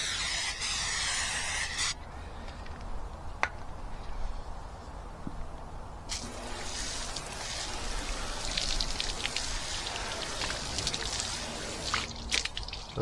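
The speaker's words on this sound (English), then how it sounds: "we just spray it onto the glass and we just rinse it off" Glass sealant sprayed onto car glass and rinsed off with water, a steady wash of spraying and splashing water with occasional sharper hissing bursts, close and continuous throughout.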